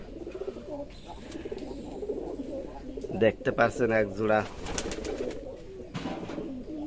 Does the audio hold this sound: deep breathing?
no